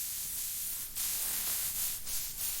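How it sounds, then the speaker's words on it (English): Spray gun laying gray paint onto a BMW body, a steady loud hissing spray with brief bursts as the trigger is pulled, with no voices. "We're ready to spray."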